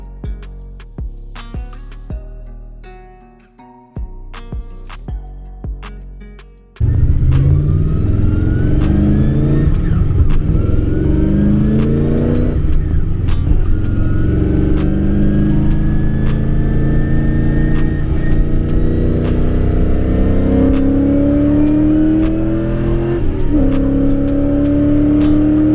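A sleeper C4 Corvette launches hard on a roll racing run at a Pocono season opener, its engine note climbing loud and steady through the gears after a few quieter idle moments at the start.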